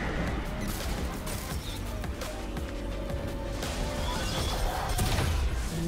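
A turret crumbling in League of Legends during a top-lane K'Sante versus Sett match, a dense burst of crashing and smashing impacts over busy game effects, loud and cluttered throughout.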